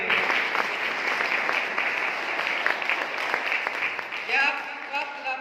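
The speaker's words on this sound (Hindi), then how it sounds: "एक बार सर के लिए जोरदार तालियां दें।" Seminar audience clapping loudly and steadily for a speaker, a crowd of hands ringing out in a sustained burst while a voice speaks over the applause near the end.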